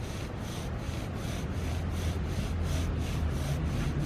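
A bow drill spindle rubs against a wooden fireboard in quick, even back-and-forth strokes, a close, rhythmic scratchy friction repeating about three times a second with no talking.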